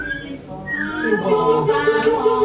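A person whistling a rising and falling tune that imitates a fire engine siren, held for a few seconds and heard nearby.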